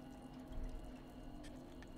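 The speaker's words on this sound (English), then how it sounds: "I got splashed." Water splashes and pours in the RAGE video game as a steady, close wash of liquid noise with a brief brighter surge midway, and no voices.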